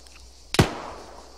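A single sharp gunshot cracks in a military shooter video game, followed by a short fading echo over quiet background.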